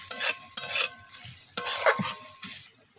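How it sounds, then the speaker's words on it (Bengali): Grated coconut stir-fried with spices in a pan for a village-style coconut kochu shak dish: close, repeated scraping stir strokes in uneven bursts over a light frying sizzle, with no voices. "তো নারকেল কুড়োটাকে এইভাবে আমি মশলার সাথে কষিয়ে নিচ্ছি।"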